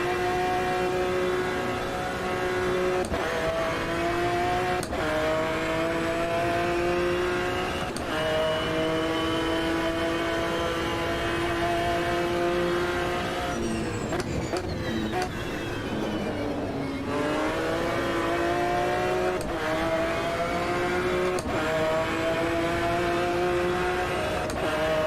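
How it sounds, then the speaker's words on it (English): Touring car engines in Assetto Corsa roar continuously near, with the pitch rising through each gear and dropping at regular shifts, and a rival car's engine passes mid-way amid the steady racing drone. "Car approaching, watch your mirrors."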